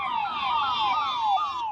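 An ambulance siren wails continuously in repeated falling sweeps, loud and steady, as it travels in a police convoy along a national highway.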